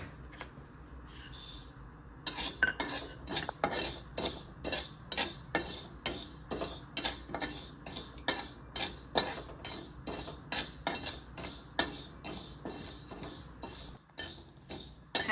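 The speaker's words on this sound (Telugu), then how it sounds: "ఇప్పుడు దీనిలో మెంతులు వేయించుకోవాలి." Fenugreek seeds roasting in a pan for oil mango pickle, a utensil scraping and clinking against the metal in a quick, steady rhythm of sharp taps with no talking.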